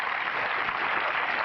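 A tennis crowd at the 2000 Canadian Open final in Montreal, Hingis versus Williams, applauds steadily, a dense, even wash of clapping filling the stadium with no single claps standing out.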